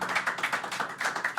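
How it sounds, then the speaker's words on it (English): Audience at a live concert applauding the camera and sound crew, a brief, even burst of many hands clapping at moderate loudness with no talking. "give a round of applause to Jake, Simon and Steve, who are working on the cameras and the sound"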